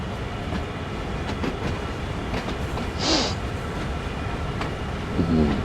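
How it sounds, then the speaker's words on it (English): A train in Train Sim World 3 pushes its rail cars back through a yard, a low steady rumble with faint clicks and a brief higher squeal partway through. "And you see we're pushing the cars back again."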